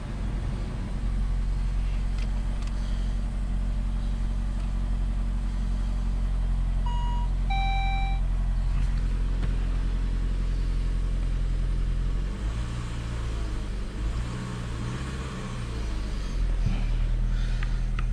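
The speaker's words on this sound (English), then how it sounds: "Start up the old car." An old car's engine idles with a steady, close low rumble. A short run of electronic chime beeps sounds near the middle, and the idle grows slightly uneven toward the end.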